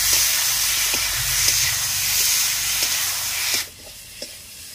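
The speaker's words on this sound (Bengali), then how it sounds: "নেড়ে দিচ্ছি।" Potatoes frying in a pan on a village-style stove, stirred after the lid is lifted, give a steady broad sizzling hiss with faint scraping ticks, cutting off sharply near the end.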